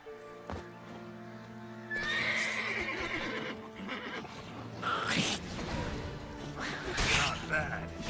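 Roach, a horse in The Witcher 3 video game, gives a loud neigh and then clip-clops in a trot, with crashing impacts from a boulder and cart and some talk over it.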